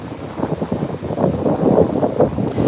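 Cold wind blows at the San Diego shore at sunset, buffeting the microphone in uneven gusts, a close and fairly loud rumble with no talking.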